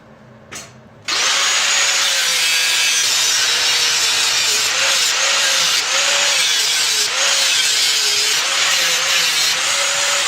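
A power tool cuts a circle out of stainless steel expanded metal for a forge grate, starting abruptly after a brief knock and then grinding loudly and steadily for about nine seconds, with a faint wavering pitch.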